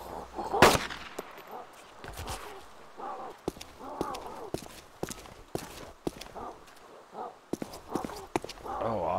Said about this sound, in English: That's why I used the Makarov.